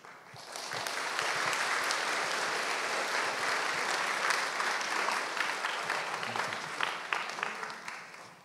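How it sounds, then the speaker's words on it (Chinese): An audience at a university memorial service applauds to welcome guests, a dense, sustained round of clapping from many hands that swells quickly and holds steady for several seconds. "我们接下来用掌声来欢迎杨师母还有 Alice"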